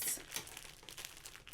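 A bag being opened with scissors, giving a close, continuous crinkling and tearing of thin plastic packaging that lasts throughout.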